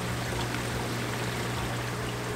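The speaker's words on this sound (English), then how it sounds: "Water comes in, goes into the floss." Water pours steadily into filter floss in a coral farm sump, a constant close rushing trickle over a low hum of equipment.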